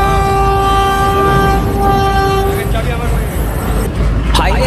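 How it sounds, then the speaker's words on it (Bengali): A train pulls into a station with a loud, sustained tonal whine or horn over heavy rumble. The tone stops partway through, the rumble carries on, and voices may be faintly present. "ফাইনালি আমাদের ট্রেন চলে এসেছে"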